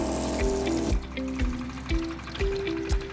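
Water runs from the tap of a Starex or Staria camper van after its lever is turned. It makes a steady splashing trickle over a background of repeated rhythmic thumps and a droning tone.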